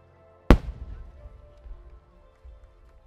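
A single sharp firework burst from a large shell at the Nagaoka fireworks festival in Japan cracks close and loud, then crackles and rumbles away into faint, scattered pops.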